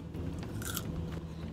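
Bites into crunchy Little Caesars thin crust pizza cut in squares, a couple of brief crisp crunches close to the mic against quiet background.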